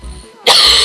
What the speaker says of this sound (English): I can only do coughs like that after I've had a cold.